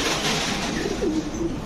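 A domestic pigeon hen coos while laying her first egg, a low soft throaty coo repeating close by over steady background noise.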